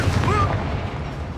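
Confringo blasting spell from Hogwarts Legacy bursting in a single short, dull boom, with a brief whistling swoop over a dense, rumbling battle din.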